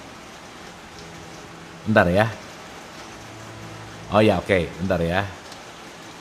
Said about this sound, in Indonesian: ini suara hujan kedengeran nggak?